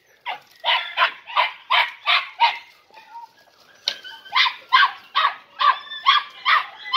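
Andalusian podenco puppy barking close by in a rapid series of sharp, high yaps, about a dozen in two bursts split by a short whining pause.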